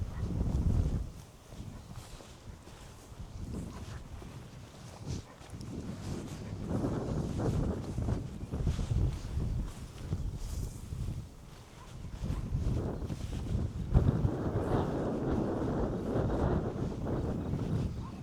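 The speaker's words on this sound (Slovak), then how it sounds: "Tu je extrémne fúka." Strong, gusty wind buffets the microphone in an open grassy meadow, a loud, close, continuous roar that swells and eases in waves, with no one talking.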